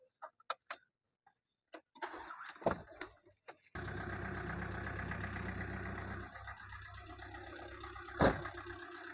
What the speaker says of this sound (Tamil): வண்டியோட இன்ஜின் கண்டிஷன் எப்படி நம்ம ஸ்டார்ட் பண்ணி பார்த்துடலாம்